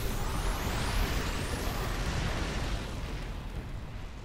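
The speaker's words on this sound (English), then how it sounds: "Seeker missiles." Seeker missile explosions in the video game StarCraft, a loud rumbling blast with a long roaring tail that slowly fades over a few seconds, with nothing else heard over it.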